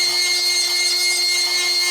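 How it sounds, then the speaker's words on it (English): A die grinder with a carbide burr grinds down spot welds on a car body panel patch, a steady high-pitched whine with a constant tonal hum, loud and close, with no speech. "I like to use a die grinder with a carbide tip."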